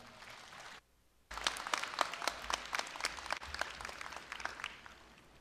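A graduation ceremony audience at Korea University bursts into loud, sustained applause after a short quiet pause, with many hands clapping together until the end.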